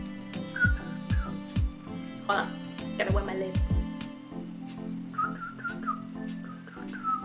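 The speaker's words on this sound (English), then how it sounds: "Can you whistle? No, but I've been practicing every day" A person tries to whistle in short, breathy, wavering bursts, quiet and broken up by lip sounds and a few words spoken between attempts.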